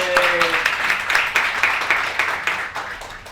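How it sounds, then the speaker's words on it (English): Applause from a seminar workshop audience, a few seconds of steady clapping with some voices mixed in, moderately loud and close. "Vaughn, give him a round of applause."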